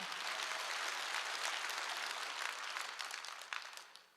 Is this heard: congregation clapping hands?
yes